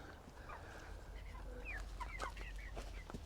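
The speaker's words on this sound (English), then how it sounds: "I'm gonna walk out here and show you the broiler chickens real quick." Six-and-a-half-week-old broiler chickens clucking and chirping softly in a group, scattered short calls over a low hum of background noise.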